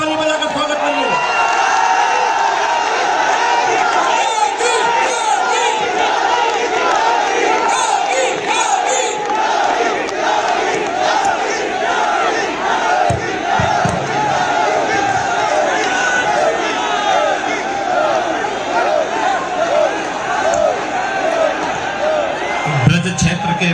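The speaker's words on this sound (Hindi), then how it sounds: "जोर से ताली बजाकर स्वागत करिए" A large crowd at a political rally for booth presidents in Etah, Uttar Pradesh, cheering and clapping loudly and continuously, a dense roar of voices and applause that fills the whole stretch without pause.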